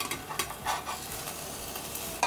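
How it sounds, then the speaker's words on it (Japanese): Soft cheese omelette is nudged repeatedly to one side of a frying pan, with gentle scraping and stirring taps over a low, steady sizzle. "片側からちょんちょんちょんちょんと端っこに寄せていきます。"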